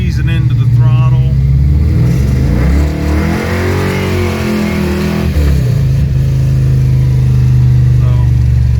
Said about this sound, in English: here I'll show you what first gear does. Just easing into the throttle.